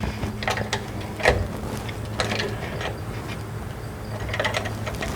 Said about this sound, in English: we're going to do a lefty-loosey counterclockwise, loosen up and take out the fill plug